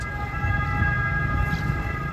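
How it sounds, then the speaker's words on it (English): Emergency sirens wail steadily at a distance in Rome, Italy, a continuous rising and falling tone over low city rumble. "And boy, were the sirens loud."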